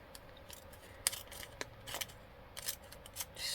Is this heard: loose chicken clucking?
no